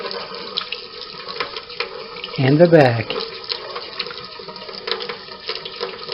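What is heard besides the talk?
water running from a kitchen tap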